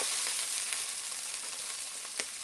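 Liver and onions frying in a pan with stock, a steady bright sizzle with a few soft pops, close and continuous, with no talking.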